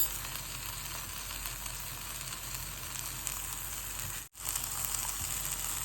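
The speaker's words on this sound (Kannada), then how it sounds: "ಎಲ್ಲ ಹಾಕ್ಕೊಂಡು ಚೆನ್ನಾಗಿ ಫ್ರೈ ಮಾಡ್ಕೋಬೇಕು." Masala with tomato and onion fries for a mushroom gravy, giving an even hiss of sizzling oil with light stirring, close by, with one brief dropout near the end.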